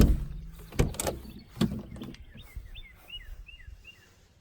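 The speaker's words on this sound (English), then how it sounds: "these doors are solid and they all shut nice and square and flush" Doors on a 1992 Land Rover Defender 110 200Tdi are shut, giving two or three sharp, solid thuds close by, then a quieter stretch with faint bird calls in the background.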